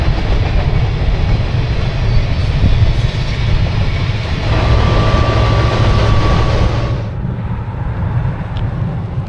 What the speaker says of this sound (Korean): 와, 이번 기차는 좀 길다.